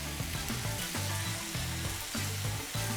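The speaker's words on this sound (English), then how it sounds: "Let this sizzle like this for about good 30 seconds." Gochujang-sauced dried anchovy stir-fry sizzles steadily in a hot pan, a loud, continuous frying hiss with light stirring scrapes throughout.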